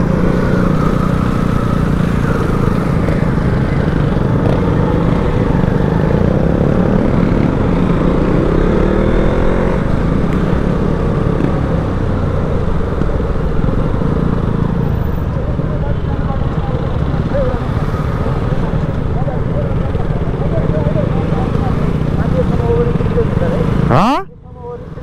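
A motorcycle rides along a road in a group of six bikes, its engine and wind rumbling steadily and loudly throughout under voices, cutting off abruptly at the end.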